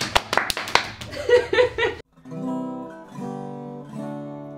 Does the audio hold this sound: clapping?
yes